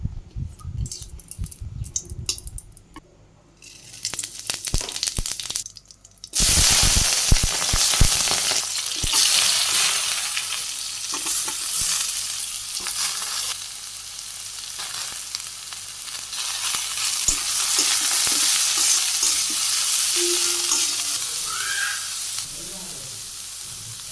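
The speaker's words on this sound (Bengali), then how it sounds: "পরে এদিকে তেল দিয়ে দিছি, তেজপাতা একটা শুকনো লঙ্কাও দিয়ে দিছি।" Bay leaf and dried chili crackle in hot oil in a village kitchen, quiet scraping and clatter at first, then a sudden loud, sustained frying hiss that carries on with occasional stirring noises, close by.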